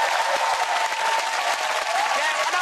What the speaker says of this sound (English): Let's give them all a massive round of applause.